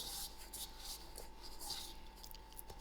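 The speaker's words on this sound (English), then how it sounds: "I'm just going to apply a little bit of oil to my hand and rub it on top of the dough." Soft, steady rubbing and swishing of an oiled hand smoothing over kachori dough, close and quiet with a continuous texture and a few brief stronger strokes.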